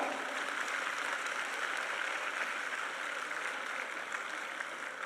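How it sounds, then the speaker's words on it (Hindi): At a women's political rally in Bengal attended by Delhi Chief Minister Rekha Gupta, a large crowd claps in a faint, distant, steady wash of applause that holds evenly throughout. "ऐसी मेरी बहनों अपने लिए जोरदार तालियां बजाओ।"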